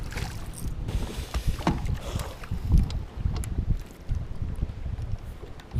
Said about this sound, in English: this wind is getting unbearing